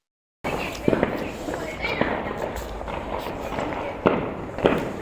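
New Year 2025 celebrations with fireworks and aerial gunfire, scattered distant bangs and cracks popping over a murmuring crowd ambience, a few sharper reports standing out.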